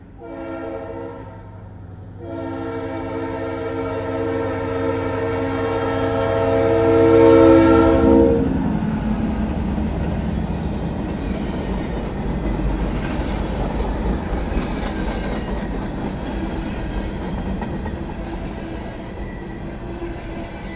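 A passing Kentucky train blows its horn in a long, loud chord that swells as it nears, then gives way to a sustained roar and rumble of rail cars rolling by.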